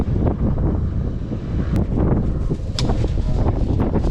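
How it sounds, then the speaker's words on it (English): Gusty wind buffets the microphone outdoors at a gas station while a pickup is being fueled, a steady loud low rumble with surges throughout and no talking. "Wind starting to blow."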